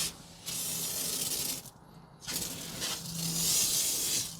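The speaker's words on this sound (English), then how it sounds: "I got the pump sprayer filled up 3-to-1. Spray this thing down." Close hissing bursts of a pump sprayer spraying down a Kubota excavator with a 3-to-1 mix, three long sprays separated by brief pauses.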